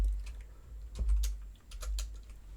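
Quick bursts of clicking on a computer keyboard, close and fairly quiet, with short pauses between clusters of keystrokes over a low steady hum.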